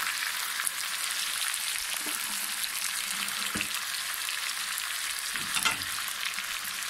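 Steady, dense sizzle of an onion-and-spice paste being fried in a pan for chicken kabsa, with a few soft stirring scrapes and a brief louder burst near the end, no talking.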